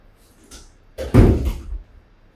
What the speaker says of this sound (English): let me just close the door real quick